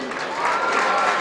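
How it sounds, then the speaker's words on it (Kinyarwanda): An audience at a school choir competition applauds with dense, steady clapping that continues evenly through the moment without a break. "amashyi menshi kuri Nikolai"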